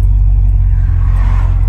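A 1972 Oldsmobile Cutlass convertible engine runs at a steady idle, a loud, deep, continuous rumble heard close up with no voices.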